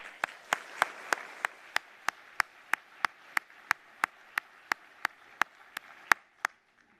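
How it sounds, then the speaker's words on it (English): A sparse, slow series of sharp claps, roughly three per second, fading out near the end; sounds like a small, thin round of applause at a student cluster competition awards ceremony. "giving them a well-earned round of applause"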